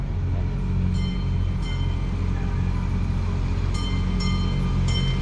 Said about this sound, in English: Get the train coming across the train cross.